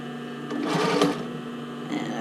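A sewing machine stitches a knit 80s sailor shirt with a steady mechanical whir, run in one continuous burst that swells louder midway, with no talking.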